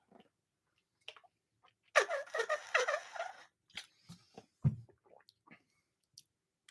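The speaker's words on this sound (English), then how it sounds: "I got the duck quack bottle back." A duck-quack squeeze bottle lets out a short burst of rapid, raspy quacks at close range, followed by a few scattered clicks and taps in an otherwise quiet room.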